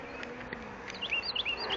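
Honeybees buzz during a spring inspection of a hive in a steady, close drone, with individual bees whining in and out near the listener and faint bird chirps in the background.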